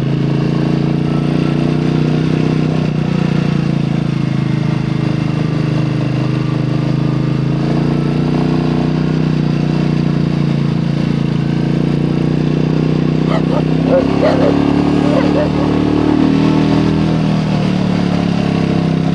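A motorcycle engine runs at a steady, loud drone close by for the whole stretch, with some rattling and clatter mixed in near the end.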